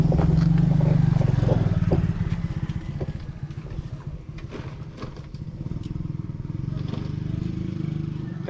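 A motorcycle engine rumbles past at close range on a lakeside loop road by Taal, its steady drone swelling and fading as it goes by, while people talk over it.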